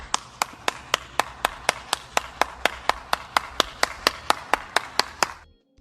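A single pair of hands clapping slowly and evenly, about three or four sharp claps per second, close and crisp, roughly twenty in a row before stopping abruptly.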